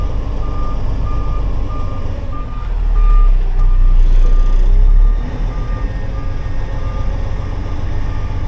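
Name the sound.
lowbed truck reversing with backup beeps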